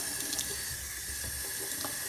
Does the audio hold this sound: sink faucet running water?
yes